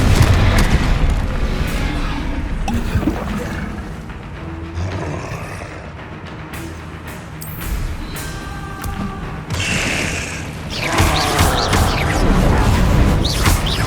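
Confringo blasting spells exploding in the Hogwarts Legacy video game, a dense barrage of loud booms and crashes with clattering debris, running continuously with heavier bursts throughout.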